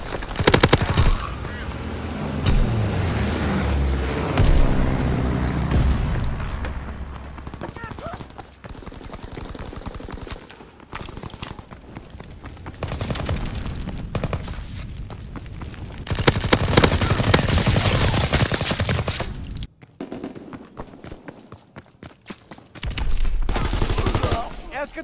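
Anti-aircraft flak guns fire in bursts of rapid gunfire during a video game battle around London docks, loud and sustained, with booming impacts and stretches of voice talking over the shooting.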